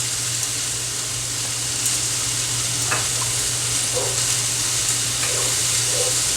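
A honey-based sauce boils in a pot while being stirred, giving a steady close bubbling sizzle with occasional soft scraping and clinking of the stirring utensil, and no talking.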